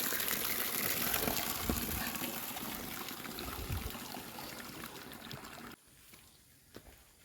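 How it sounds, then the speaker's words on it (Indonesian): Water pouring from two spouts beside a hiking trail near a coffee plantation, a steady gushing stream that drops abruptly quieter near the end. "di sini kita bertemu dua pancuran air"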